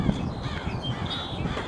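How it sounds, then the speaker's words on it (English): A flock of crows caws noisily outdoors, several harsh overlapping calls packed close together in a brief, loud burst. "A couple of crows are noisy."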